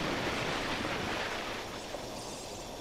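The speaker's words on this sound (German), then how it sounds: "Ich hab Wasserplanschen gehört." Water sloshes and splashes in a mine level of the Duke Nukem Forever video game, heard as a steady, fairly loud wash of noise that eases off slightly toward the end.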